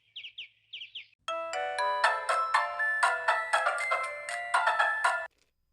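A phone rings with a bright, chiming ringtone melody, a run of repeated tonal notes played clearly and fairly loud for several seconds, preceded by a few short chirping beeps.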